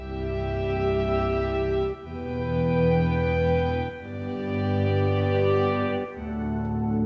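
Sustained harmonic music run through 8-bit digital hardware converters, with a buzzy, stepped, slightly clipped tone; three long held chords change at steady intervals, loud and continuous, with no talk.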